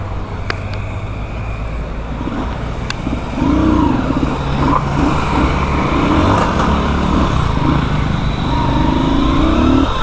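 A freshly repaired motorcycle engine running near the workshop, a steady low drone that swells louder and rumbles more strongly partway through, with light traffic noise around it.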